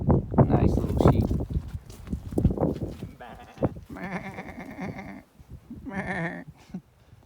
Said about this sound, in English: Nice little sheep.